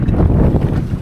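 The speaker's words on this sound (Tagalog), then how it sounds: "Lumalakas yung hangin." Strong wind and rough waves around a small fishing boat at sea: a continuous heavy, low roar of wind buffeting the microphone, with no talking.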